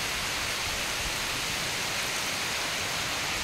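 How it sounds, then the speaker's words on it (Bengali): Heavy rain from Cyclone Remal pours down as a dense, unbroken hiss, loud and close, with no gaps or voices over the few seconds. "বাবা ঝড় বৃষ্টি যেন বাড়ছে মনে হচ্ছে"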